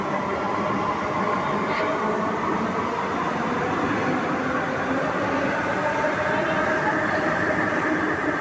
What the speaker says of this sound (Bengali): এই মেট্রো এসে গেছে